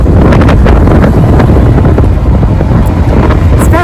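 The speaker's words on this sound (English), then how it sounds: "Very windy today." Strong outdoor wind buffets a microphone, a loud, continuous low rumble with gusty roaring and no letup, drowning out any other sound.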